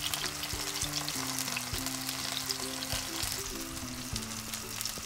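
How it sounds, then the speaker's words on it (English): Porcini mushrooms fry with garlic in olive oil, a loud continuous sizzle and crackle with occasional stirring, heard alone without talk. "The mushrooms frying, they're already frying"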